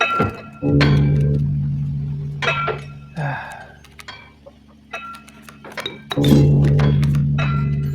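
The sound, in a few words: clinking of metal on stone in video game Inscryption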